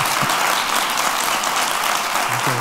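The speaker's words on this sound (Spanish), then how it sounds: "Aplaudan, aplaudan" An auditorium audience gives steady, dense applause, a continuous loud wash of many hands clapping with no pauses or voices over it.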